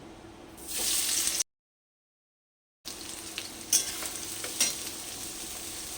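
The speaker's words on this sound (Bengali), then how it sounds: "ওই তেলের মধ্যেই পেঁয়াজগুলোকে দিয়ে দিচ্ছি" Onions dropped into hot oil left over from frying potatoes and carrots hiss in a steady, loud sizzle broken by a brief silent gap, with stirring scrapes afterward.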